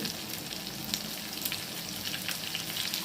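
Broken cashews and two sprigs of curry leaves frying in oil in a pan, a continuous close crackling sizzle with small pops and no voices.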